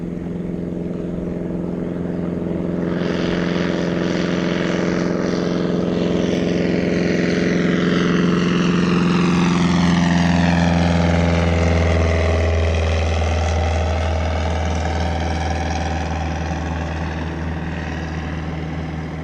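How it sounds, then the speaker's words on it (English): A seaplane sits on a pond after landing, its propeller engine droning steadily nearby and rising slightly in pitch and loudness before easing off again. "this seaplane just came in and landed over here"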